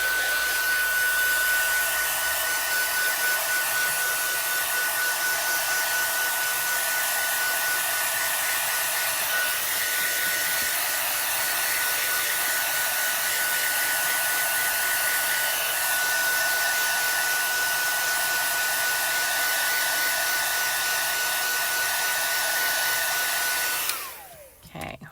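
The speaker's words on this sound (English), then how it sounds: "I'm going to heat this panel up just to make sure our ink is completely dry" A heat tool blows steadily over a paper panel to dry clear, sticky watermark embossing ink, a loud continuous whooshing hum with a faint whine that runs unbroken for about 24 seconds, then cuts off abruptly.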